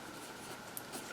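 Quilt fabric is marked by hand with a pen or marker, giving a soft, faint scratching stroke with a tiny tap near the end, quiet and brief.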